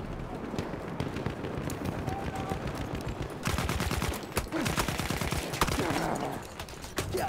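Rapid bursts of gunfire in the video game Battlefield, dense crackling volleys that grow louder and busier partway through, heard under game background noise.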